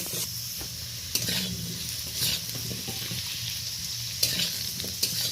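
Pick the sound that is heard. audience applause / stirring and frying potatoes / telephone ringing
stirring and frying potatoes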